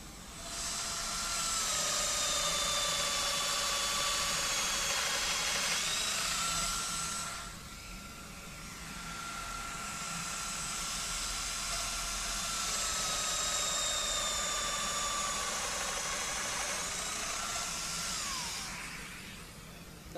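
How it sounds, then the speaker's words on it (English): Festool power saw cutting into material at a trade fair, a long loud high whine that dips briefly mid-way then resumes before spinning down, with no speech. "Now we're going to cut into the material."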